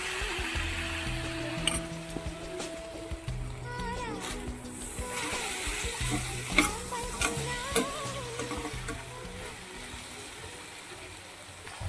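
Okra and potatoes frying and being stirred in a pan, a steady close sizzle with clattering stirring under a music bed throughout.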